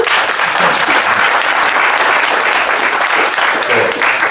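Loud, steady audience applause welcoming a speaker at a HIVE Ignite meeting, a dense wash of clapping that holds evenly from start to finish.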